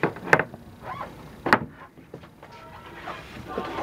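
Two sharp door knocks or latch clicks, about a second apart, from residential-style hinged doors inside an Airstream 23FB Flying Cloud travel trailer, followed by quieter handling and shuffling.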